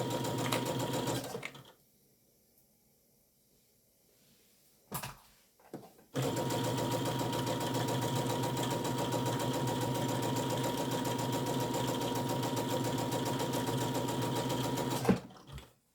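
A sewing machine stitches a tablet case in a brief burst, then goes quiet for several seconds while the presser foot is lifted and the fabric pivoted. It then runs in a long, steady, close mechanical whir before stopping abruptly.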